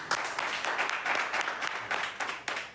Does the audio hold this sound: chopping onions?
no